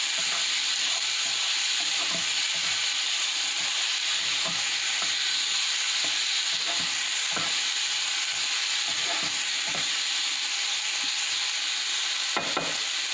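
Maggi masala pasta ingredients are stirred together in a hot pan, with a constant loud sizzle and hiss and repeated soft scrapes and knocks of the spoon throughout, and no voices.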